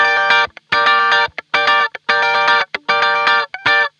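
Electric guitar played through a digital reverb pedal, short sustained chords repeating in bursts with brief gaps as the effect is switched in and out, loud and close with no talking.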